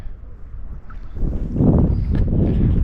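Canoe on a lake pushing into a headwind, with steady low wind rumble across the mic that swells louder in the second half, plus faint water and paddle movement underneath.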